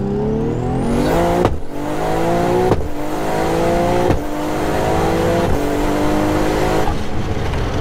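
955bhp Nissan R33 GTR with a sequential gearbox accelerating hard in first gear, its engine note climbing steeply then dropping with each flat shift, five rising pulls in a row, loud and close inside the car.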